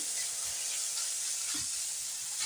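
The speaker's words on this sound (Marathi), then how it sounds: "आता याला एक दोन मिनिट आपण छान परतून घेऊया" Rice pulao with garam masala and carrots sautéing in a pan, a steady close sizzle and hiss with faint stirring scrapes throughout.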